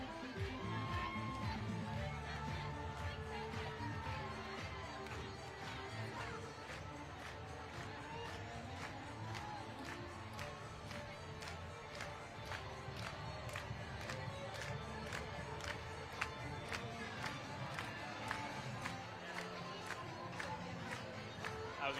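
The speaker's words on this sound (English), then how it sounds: "And you hear everybody clapping." Crowd at the Savannah St. Patrick's Day Parade: steady rhythmic clapping and cheering with whoops, dense and continuous, a beat of music beneath and a few voices mixed in.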